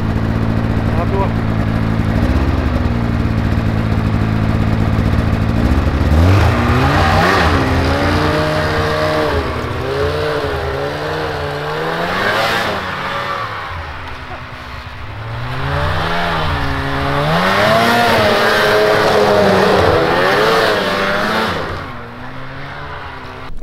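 A snowmobile engine revs loudly and continuously while riding, its pitch rising and falling with throttle changes. A voice is heard over the engine.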